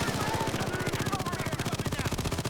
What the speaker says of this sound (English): I even got a sentry gun that's like taking all the fire right now.